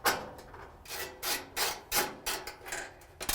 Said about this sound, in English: We're going to use a 1/4 inch socket and a ratchet to take these screws out.